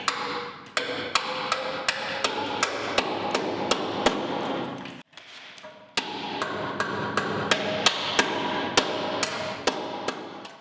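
Steady, sharp hammer blows on a sheet metal tab folded over the heater channel of a 1959 VW Beetle ragtop during body restoration, ringing metallic strikes repeating at a regular pace with a brief pause midway, loud and close.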